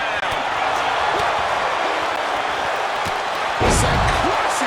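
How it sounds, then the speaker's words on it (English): A wrestler hits the mat with a heavy body slam in WWE 2K26 during a Hell in a Cell tag team match, a loud thud over constant arena crowd roar, with a commentator talking. "Sent crashing down by the body slam."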